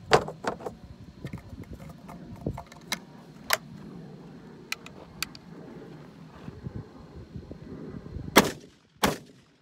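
Several sharp, loud reports from a CZ Hammer Classic 12 gauge shotgun, scattered through the span with two strong blasts near the end, over quiet outdoor background with small handling noises between.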